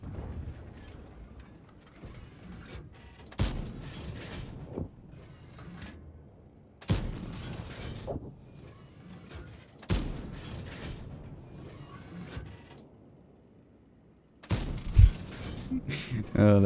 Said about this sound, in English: Let's just fire all of them.